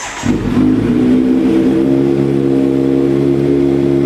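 A 2018 Kawasaki Z900 ABS motorcycle, about 4,000 km on it and fitted with an aftermarket N-Spec exhaust, fires up and holds a loud, steady high rev close by, with no talking.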